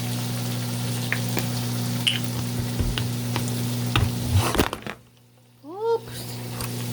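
Butter and garlic sizzle steadily in a pan on a turned-down burner, with stirring and faint clinks over a constant hum; near the end the sizzle drops out abruptly and a few brief squeaky tones follow.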